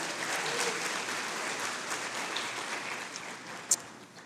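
A church congregation applauds in a steady wash of clapping that sounds fairly faint and distant. It sustains evenly throughout, with one sharp louder clap near the end.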